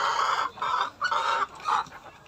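Backyard chickens clucking in a coop, a run of repeated close clucks in short bursts, fairly loud with no talking.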